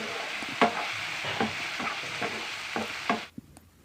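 Okra frying with spices while being stirred, a bright close sizzle with rhythmic scraping spatula strokes about every half second, ending abruptly in near silence with a couple of faint knocks.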